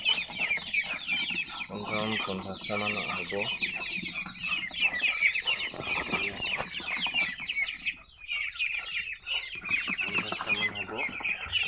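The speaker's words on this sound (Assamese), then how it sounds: "এয়া হাঁহ পোৱালি পুহিছে দেখিছে আপোনালোকে।" Young ducklings raised on an Assam farm peep in busy, overlapping chirps close to the listener while someone talks over them at intervals.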